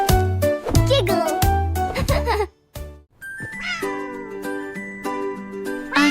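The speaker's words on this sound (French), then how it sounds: "Un chat intelligent dans un chapeau de boulanger." A cartoon cat meows repeatedly in loud, tonal, bending cries over a bright children's song backing, with a short pause midway before the music and calls resume.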